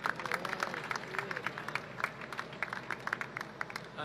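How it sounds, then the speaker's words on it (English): Sparse clapping from a small crowd at a Pakistani flag raising ceremony with the mayor, a steady patter of individual claps of moderate loudness with a faint murmur underneath. "please give a round of applause to my friend and Assembly member David Veprin"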